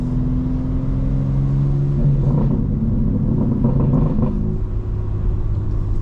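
A BMW M4 engine and exhaust drone steadily while driving in full sport settings with valves open, with rising revs and rumbling burbles building in the middle before easing off, close and continuous throughout.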